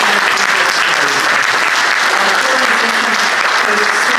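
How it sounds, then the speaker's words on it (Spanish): Applause from an audience at a local history society talk fills the whole stretch, a dense, steady wash of clapping with murmuring voices mixed in. "el aplauso que les doy"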